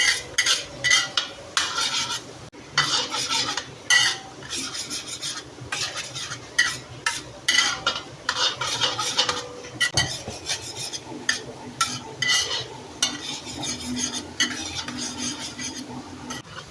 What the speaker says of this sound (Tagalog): Isunod natin dito ang ating garlic or bawang. Ayan, halo-haloin lang natin hanggang mag-golden brown.